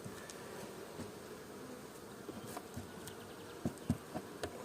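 Honeybees buzz steadily around hive frames during a spring colony inspection, a continuous close drone with a few louder passes of individual bees near the end.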